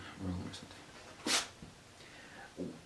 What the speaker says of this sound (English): You just sneezed all over my arm.